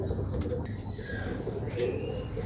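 Pigeons coo softly in a continuous low murmur, with faint chirps and flutters over steady background noise.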